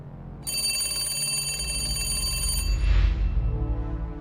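A telephone bell rings continuously for about two seconds in a sustained, loud metallic trill, then stops and gives way to a low rumble and hum.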